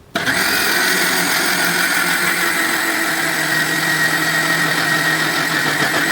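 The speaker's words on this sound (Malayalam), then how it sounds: "ഇനി ഈ മിക്സിയുടെ ജാർ അടച്ച് കൊടുത്തിട്ട് ഈ ഉഴുന്ന് നല്ല ഫൈൻ പേസ്റ്റായിട്ട് തന്നെ അരച്ചെടുക്കുക" A kitchen mixer grinder with its jar closed grinds soaked urad dal into a fine paste for idli batter. It starts abruptly, then runs as a loud, steady motor whine and churning drone, with no talk.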